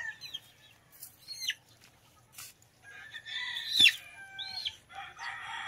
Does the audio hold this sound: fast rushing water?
no